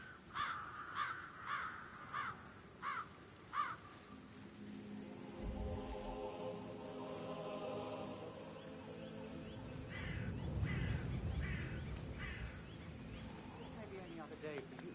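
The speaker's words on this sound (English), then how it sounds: "I'll never get rid of those stupid birds." Crows in the Hitman 3 video game give a run of five loud, evenly spaced caws, followed by low rumbling ambience and a few fainter caws later on.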